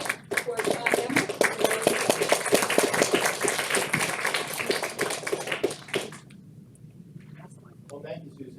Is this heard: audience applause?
yes